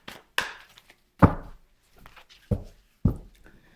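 A tarot deck is cut and handled, giving several sharp, close card slaps and taps spaced irregularly, with near silence between them.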